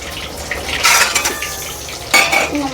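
Sea bass pieces fry in a pan in a South Indian home kitchen, with utensils clinking and stirring plus bursts of sizzling, close and moderately loud, no talk.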